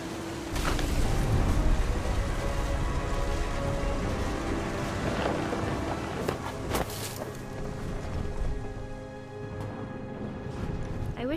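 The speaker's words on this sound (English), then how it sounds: "The thunder sounded much too close and full of angry power" A thunderstorm in What Remains of Edith Finch, with heavy steady rain and a low rumble of thunder throughout, loud and continuous with scattered sharper crackles.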